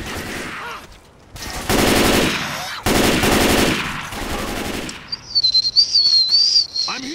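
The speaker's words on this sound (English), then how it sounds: "Watching the sentry gun burn all my enemies." An engineer's sentry gun fires in Left 4 Dead 2, sounding as loud bursts of automatic gunfire in separate rapid volleys, followed by a high whistling tone and sharp chirping sounds.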